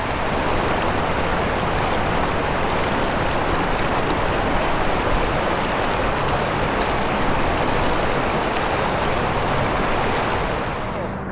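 Fast-flowing river white water in rapid chutes: a loud, steady rushing roar of churning water, close and constant throughout.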